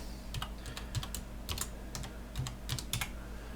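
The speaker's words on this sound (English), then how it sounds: "And we'll type in our password." Keystrokes tap out a password on a computer keyboard: short, light, irregular clicks in small bursts, close and fairly quiet over a faint background hum.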